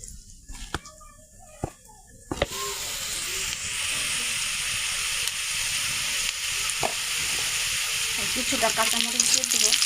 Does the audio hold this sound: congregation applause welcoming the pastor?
no